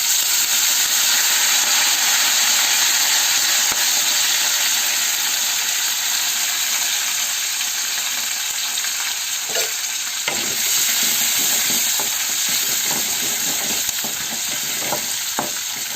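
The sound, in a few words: curry leaves and green chillies frying in hot oil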